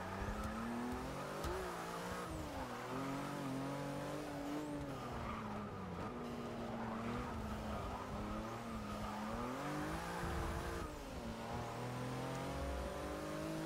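Race cars in the Forza 6 racing game, a pack of V8 Supercars against a Porsche GT2, with loud, continuous engine roar rising and falling through gear shifts, occasional tire squeal throughout.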